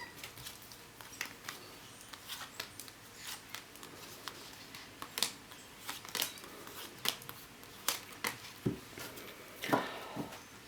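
Soft papery riffles and taps of tarot cards being shuffled, repeated in irregular bursts close by, with quiet pauses between.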